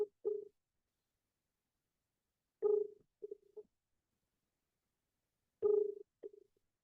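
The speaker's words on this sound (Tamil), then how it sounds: "நான் அவருக்கு ஃபோன் கால் போட்டு கேட்கிறேன்" A phone call being placed, with short ringing tone bursts repeating about every three seconds, each followed by a brief softer pulse, separated by silence.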